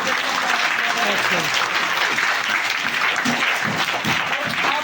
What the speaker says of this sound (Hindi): एक बार फिर इनके लिए बहुत जोरदार ताली।